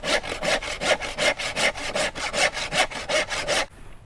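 A hand saw cuts a wooden workpiece for a stool joint, about fourteen quick, even back-and-forth rasping strokes, close and loud with no talking, then stopping abruptly near the end.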